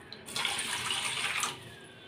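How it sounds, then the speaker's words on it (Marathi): A short stream of water pours into a container for about a second, then stops, leaving quiet room tone. "त्याच्यामध्ये थोडंसं पाणी ओतून ठेवायचं आहे"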